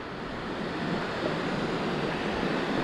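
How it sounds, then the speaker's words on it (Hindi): Shatodi waterfall roars in a steady, dense wash of rushing water, loud and constant with no pauses and no voices. "मुझे यहाँ तक आवाज सुनाई दे रहा है, एंड सामने शायद से वाटरफॉल भी दिख रहा है"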